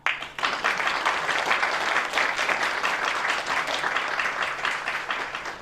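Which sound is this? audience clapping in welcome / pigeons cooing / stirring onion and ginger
audience clapping in welcome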